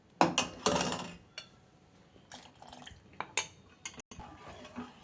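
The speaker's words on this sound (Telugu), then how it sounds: "దీన్ని ఇలా లమ్స్ రాకుండా కలుపుకుంటూ ఉండాలి" A spoon stirs custard powder mixed with milk in a pan for mango custard, giving intermittent scraping and clinking strokes against the pan, close and moderately loud, with short pauses between bursts and no talking.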